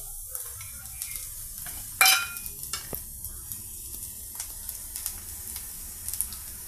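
Spice powders with salt, turmeric and red chilli frying in oil for an egg fry, a faint steady sizzle with scattered light clicks and one louder scraping stir, close and quiet, no talking.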